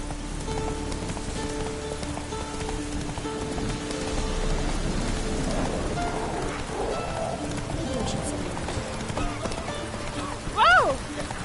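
Roach, the horse in The Witcher 3, clip-clops steadily through rain, hooves under a constant hiss of rainfall, with a brief higher call near the end.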